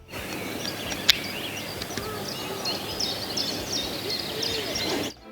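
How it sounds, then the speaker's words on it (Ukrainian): Many birds chirp and trill in the distance outdoors, a busy layered chorus over a steady natural background, with one sharp click early on. "Тут співають пташки. От тільки послухайте."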